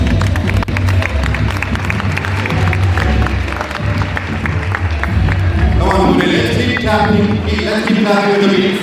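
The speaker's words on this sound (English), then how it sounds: "Let's keep clapping with the beats" An audience at a live outdoor event claps along to music, a dense steady wash of hands under the beat with drums and voices running throughout at high level.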